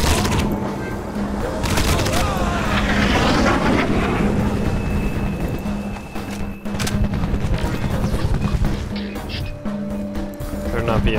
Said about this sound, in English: So sick of helicopters.